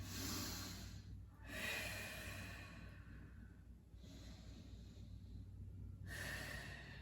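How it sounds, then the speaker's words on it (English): Deep yoga breathing in a standing forward fold, with slow audible inhales and exhales in long alternating breaths, close and quiet, and no talk. "Take a couple of deep breaths here"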